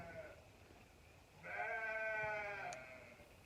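A single sheep bleats loudly for about a second, a wavering nasal call over a quiet, windy outdoor background in Idaho.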